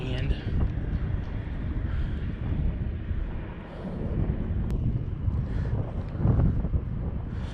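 Constant wind buffets the microphone while fishing from a boat for winter bass, a dense low rumble that holds steady throughout, with a voice heard faintly underneath.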